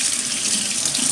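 Water runs from a tap into a sink in a loud, steady, close rushing stream.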